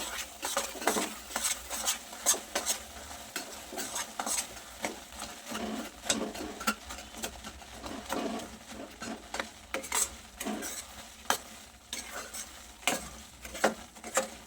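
A spoon scrapes and stirs adadiya mixture with cashew and almond pieces in a pan, soft rhythmic scraping strokes repeating close by at low volume, with a faint sizzle underneath and no talking.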